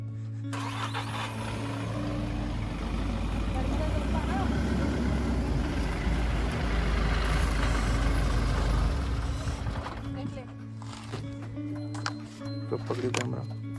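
A vehicle engine labours loudly and steadily while climbing out of a pothole during a Narmada parikrama road journey, with a low rumble rising and then easing off, and people talking over it.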